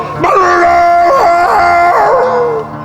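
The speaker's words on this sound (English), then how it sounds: "The hounds of hell are howling. You can hear them." Dogs in an apartment, German shepherds, howling loudly and close, with long wavering howls that rise and fall in repeated swells for a few seconds, with no talk.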